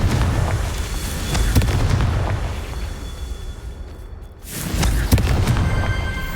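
A Confringo spell explosion in Hogwarts Legacy booms with a heavy blast and rumbling debris, briefly dropping away before a second burst of crackling impact sounds follows.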